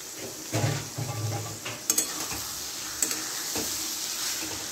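Squeezed soybean chunks fry in oil and spices in a pan while being stirred, a steady close sizzle with a few light metallic clinks and scrapes.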